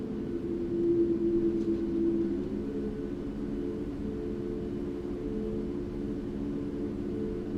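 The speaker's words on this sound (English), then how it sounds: "Alright, 2 good engine starts." Boeing 737 MAX 8 jet engines spooling up during start in a flight simulator cockpit, a steady low droning hum with a tonal whine, constant and moderately loud throughout with no talk.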